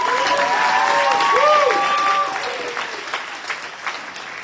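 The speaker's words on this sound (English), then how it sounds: "A little applause." Graduation audience at a Charter College ceremony in Pasco applauding the graduates, a steady wash of many hands clapping that holds loud for about two seconds, then thins and fades toward the end, with faint voices mixed in.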